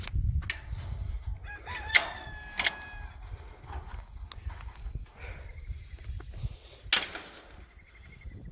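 A rooster crows loudly a few times, long drawn-out calls at intervals, with quieter clucking and rustling in between.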